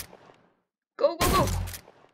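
A single loud shotgun blast in a multiplayer shooter video game bursts out after a brief silence, booming for about half a second before cutting off.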